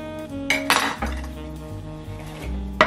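Red onion scraps tossed into a clean bowl, making a few short clinks and clatters, then a quieter stretch and a final sharp knock at the end.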